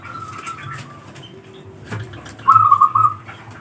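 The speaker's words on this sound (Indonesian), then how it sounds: "ingin mendengarkan suara-suara perkutut" A zebra dove (perkutut) gives a short, clear coo in the latter part, standing out over a quiet, faintly noisy background.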